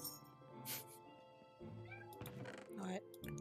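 A cat meows during Minecraft gameplay, a few short game mews and thunks heard faintly over someone speaking throughout.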